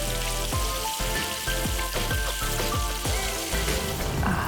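Salmon fries in hot oil until crispy, giving a crackling, popping spatter close by, with rhythmic clicks throughout and a tonal musical bed underneath.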